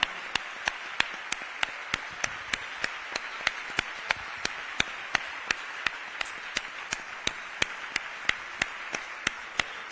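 A standing audience at a Pride gala for North Africa applauds in a steady, rhythmic clap that holds evenly throughout, sharp regular beats over a continuous crowd wash.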